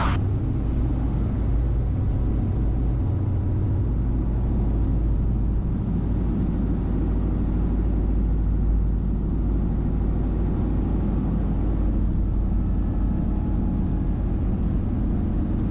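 Small airplane engine with power reduced during approach, a steady low droning rumble filling the cabin without letup, loud and constant with no talk over it.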